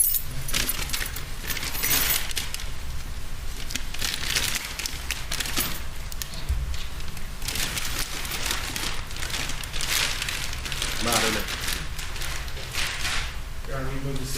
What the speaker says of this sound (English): there's a set of keys for a Kia vehicle